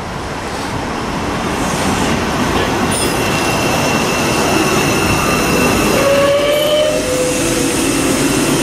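A Class 334 electric train in Strathclyde, bound for Dalmuir, runs steadily along the rails with a continuous rumble and rattle, joined by high wheel squeals and a whining tone near the end.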